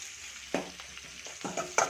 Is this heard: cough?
no